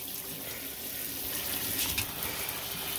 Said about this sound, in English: I didn't know you were in here taking a shower.